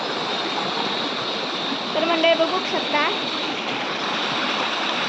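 Rushing water from a stream and waterfall flows in a steady, continuous wash, with someone speaking briefly over it midway.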